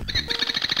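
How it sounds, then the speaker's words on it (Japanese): Bird chirping in a PC Engine video game, a quick run of bright, high synthesized tweets repeating in a fast rhythm over a low background tone, short and clear. "鳥ですよ。"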